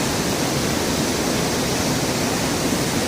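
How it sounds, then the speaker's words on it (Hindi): Bhatinda waterfall near Dhanbad, Jharkhand roars as a loud, dense, unbroken rush of falling water heard close by, with no voices. "तो फाइनली मैं बहुत ही करीब हूँ झरने करीब।"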